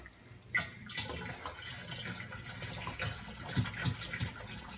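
Water running into a plastic jug being filled to top off an aquarium reservoir, a steady close splashing trickle with small drips and bumps throughout.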